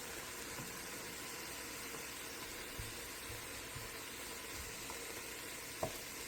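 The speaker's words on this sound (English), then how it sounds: "The mushrooms are nice and cooked now. I just deglazed the pan." Cooked, browned mushrooms in a freshly deglazed pan for wild rice soup, a quiet, steady sizzle and hiss with a few soft stirring knocks and one brief clink near the end.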